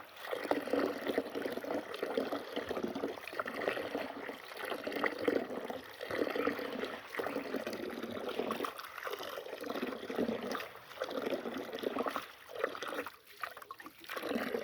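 Water sloshes and trickles steadily as soil is rinsed from something being washed by hand, a continuous close splashing and dribbling with no talk.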